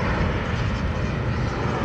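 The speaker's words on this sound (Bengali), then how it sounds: "নামতেছে আরেকটা বিমান, আসতেছে" A landing airplane roars as a continuous broad engine rumble, steady and fairly loud, with no voices.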